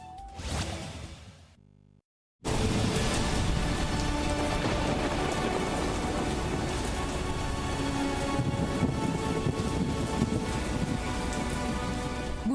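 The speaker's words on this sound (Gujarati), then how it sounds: "આજે પણ રાજ્યના અનેક વિસ્તારોમાં કમોસમી વરસાદ પડ્યો" Steady, heavy unseasonal rain in Gujarat pours down continuously, a dense hiss with occasional louder patters, after a brief quieter opening and a moment of silence.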